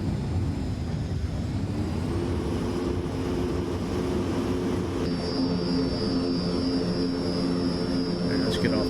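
Engines of a Transall C-160 transport plane drone steadily on the tarmac in a flight video game played on Xbox Series X, a loud, continuous roar with a shifting high whine throughout.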